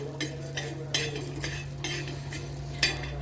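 Whole coriander seeds dry roasting on a hot tawa, stirred with a spatula in repeated scraping strokes every half second or so over a soft background hiss and a low steady hum.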